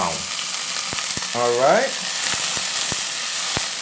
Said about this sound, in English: once that sizzling is going like that, you just want to turn the flame down.